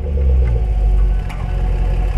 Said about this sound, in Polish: horrendalny jest dźwięk, jak ją wydaje faktycznie to V8